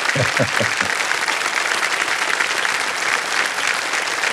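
Studio audience on a TV quiz game show bursts into applause, a few louder claps standing out at first before settling into a steady, dense wash of clapping that holds throughout.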